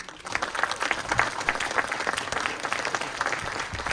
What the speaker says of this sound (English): let's light up our dome with another round of applause for Hailey